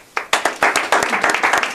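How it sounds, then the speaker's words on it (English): Polite audience clapping at a Toastmasters club meeting, crisp individual claps that quickly build into a close, steady round of applause from a small group, with no talk over it. "So if you hear this clapping sound, let's all clap."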